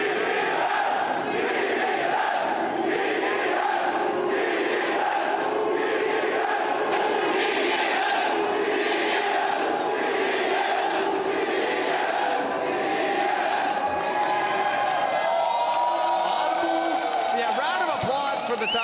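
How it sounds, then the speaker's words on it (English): A large esports crowd at a League of Legends final chants T-E-S rhythmically in unison, a repeated cheer rising and falling in loud regular bursts, with a voice over a loudspeaker near the end. "You've been making noise all day."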